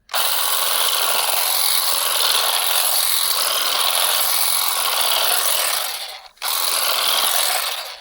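A loud, high-pitched grass trimmer motor whines steadily as it cuts tall grass, dipping briefly near the end before roaring back up.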